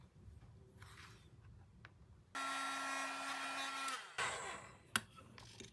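A heat tool blows hot air to melt clear embossing powder on a craft piece, a loud steady whirring hum starting partway in and running about two seconds before cutting off, followed by faint handling sounds.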